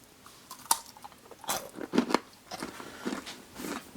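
Bites into a crunchy chocolate rose des sables cluster with almonds and coconut oil, a few sharp close crunches followed by steady crackly chewing, loud and near with no talk.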